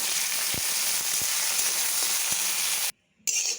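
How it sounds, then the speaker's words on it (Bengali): Okra sizzling steadily in hot oil in a kadai, a dense continuous fry with a few soft clicks, cut briefly by a short silent gap near the end before the sizzle returns. "এরপর ঢ্যাঁড়সটা ভেজে নেব"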